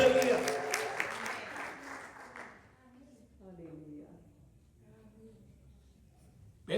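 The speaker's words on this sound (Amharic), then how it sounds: "ጭብጨባ ይሁንለት" A church congregation at a Sunday service breaks into applause, loud clapping at first that fades away within a few seconds, then a preacher's voice speaks over the quiet room.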